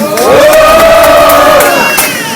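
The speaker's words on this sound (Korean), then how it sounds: "시민께도 큰 환호를 보내주셨으면" Loud crowd at a candlelight rally in Yeoju lets out a sustained cheer and roar of voices, steady and close for the whole stretch.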